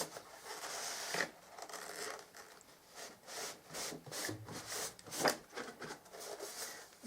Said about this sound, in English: Let's get it out of the box.